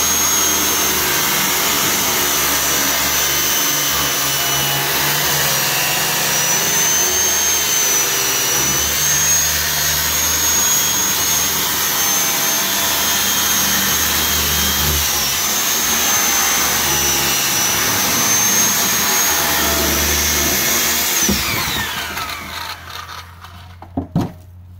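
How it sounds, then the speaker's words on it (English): Loud, sustained whining roar of a power cutting tool going through PVC pipe, steady and close for about twenty seconds before winding down, followed by a couple of light knocks. "I'm just going to cut this piece of PVC down."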